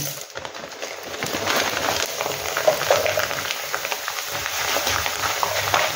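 Poha (flattened rice) frying in well-heated oil for a cashew, groundnut and copra chivda, a loud, dense, continuous close sizzle with crackling bursts and no talk.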